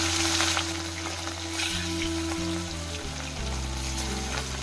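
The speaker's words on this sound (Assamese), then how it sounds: "এতিয়া মায়ে ওপৰত মাছখিনি ধুনীয়া কৰি এটা এটাকৈ থ'ব" Pieces of rohu fish sizzle steadily in hot oil in a wok, a loud, continuous frying hiss over a low background hum, with no talk.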